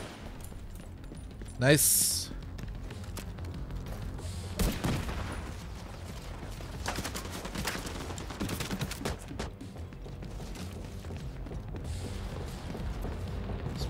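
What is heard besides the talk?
sniper gunfire in The Division 2 video game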